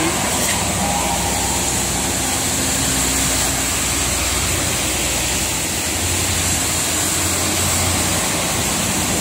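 Heavy rain on the Jakarta–Cikampek toll road, a dense, steady hiss filling the whole stretch, with low traffic rumble beneath it.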